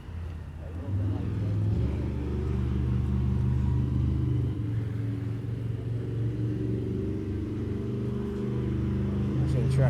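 A deep, heavy engine rumble of a large monster truck idles and revs steadily nearby at a truck show, loud and continuous throughout.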